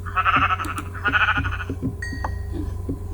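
Minecraft sheep bleat twice in succession, loud and close, with a steady low hum and faint clicking beneath.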